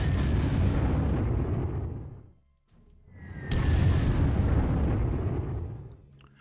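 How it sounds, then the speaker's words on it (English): Bombers pound artillery in the war strategy game Panzer Corps. Two loud, booming explosions roll out one after another, each decaying over a couple of seconds, with a short lull between them. "my bombers can start bombard this artillery"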